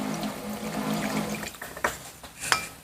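Milk pours and splashes briefly into a bowl, a soft gurgling stream with a couple of sharper splashes near the end, no talking.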